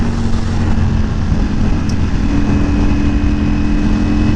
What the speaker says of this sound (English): You gotta give it a little bit of gas under those tunnels. Get to hear that exhaust a little better.